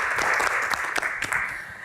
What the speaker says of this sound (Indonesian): Tepuk tangan lebih meriah lagi dong.